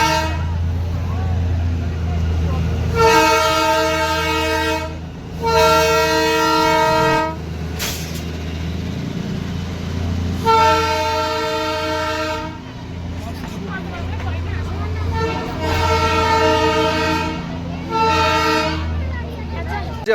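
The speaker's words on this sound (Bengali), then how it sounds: "টয় ট্রেন আসছে।" Darjeeling toy train pulling into Ghum station, sounding repeated loud horn toots in separate bursts over a low rumbling engine and rail noise, with people talking nearby.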